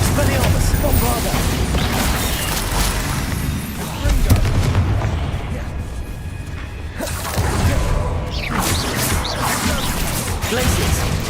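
Spell combat in Hogwarts Legacy, with a Bombarda blast among dense booms, crashes and whooshes, loud and continuous, with talk running underneath.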